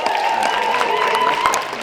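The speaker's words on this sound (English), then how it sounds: "a round of applause for THEBROSFRESH" An audience at the Austin AI Film Festival 2025 awards show applauds briefly, with soft clapping mixed under a steady sustained tone and amplified sound from the stage.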